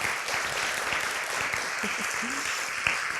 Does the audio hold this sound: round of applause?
yes